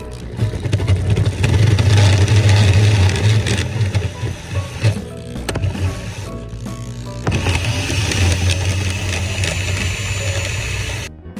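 Drilling through the firewall of a 2019 Mustang GT: a loud, harsh power-tool whine with grinding rasp runs for a few seconds, drops off briefly, then resumes steadily to the end, close up and without talking.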